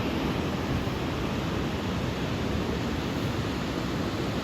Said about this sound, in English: I started recording when the waves are not that interesting